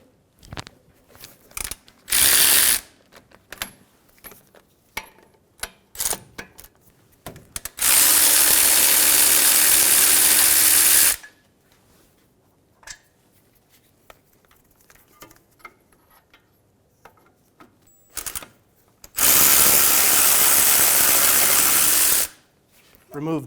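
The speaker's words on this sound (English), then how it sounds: "Using a 17mm socket, remove the caliper bracket bolts." Ratchet with a 17mm socket working the caliper bracket bolts on a 2003-2008 Honda Pilot, with two long continuous whirring bursts, a shorter one earlier, and scattered clicks and clanks between them.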